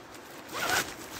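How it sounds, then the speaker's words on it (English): A Onetigris poncho is zipped up in one quick, close zipper pull lasting under a second, with a faint rustle of fabric around it. "Zips up."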